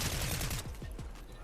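Rapid gunfire crackles in the Fortnite video game, a dense burst of quick shots that fades into a few spaced echoing reports over about a second and a half, with no voices.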